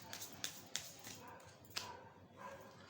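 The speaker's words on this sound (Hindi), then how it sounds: "सर्दियों में कुत्ते भौंक रहे होते हैं" Dogs bark faintly in the distance outdoors on a winter night, a few short, spaced yaps rising over a quiet, hissy background.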